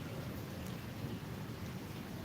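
Night rain falling in Dhaka, a dense steady hiss of rain with a faint low rumble, continuous and even throughout.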